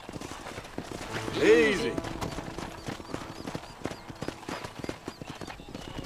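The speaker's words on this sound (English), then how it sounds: "Hit your horse and wait for me by the stable." Horse hooves clip-clop at a trot in the Western video game Red Dead Redemption, a steady rhythm running under the talk, with a whinny and game music around it.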